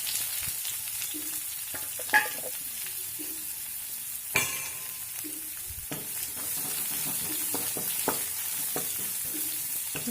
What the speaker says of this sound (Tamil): வெங்காயம் வந்து நல்லா வதங்கி வரட்டும்.